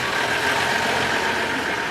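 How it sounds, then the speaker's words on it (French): A restored old Mercedes truck engine runs at a steady idle, a dense continuous rumble with an even, unbroken drone close to the microphone, no voices present. "un moteur qui ronronne comme au premier jour"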